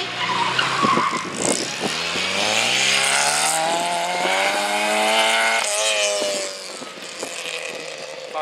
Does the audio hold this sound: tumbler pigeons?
no